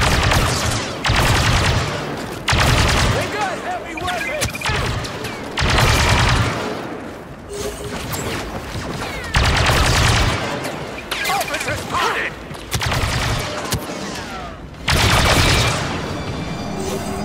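Heavy gunfire in the Star Wars Battlefront 2 video game at the Battle of Jakku, with repeated loud bursts of blaster and automatic fire and booming blasts, broken by short lulls and voices talking over the action.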